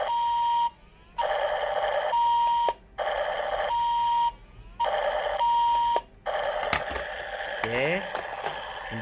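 A toy RC double decker bus (Double E model) plays its electronic door opening and closing effect: repeated loud beeping chime cycles separated by short pauses, ending in a busier burst of sound.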